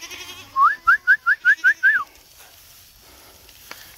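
A quick run of six short, evenly spaced goat bleats from a herd being moved to the woods, close by and fairly loud, followed by quiet outdoor background.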